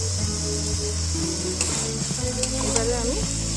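Masala with potato and pointed gourd frying in a pan, a steady close sizzle with stirring scrapes, and a voice talking over it.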